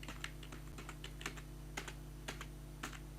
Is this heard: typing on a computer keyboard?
yes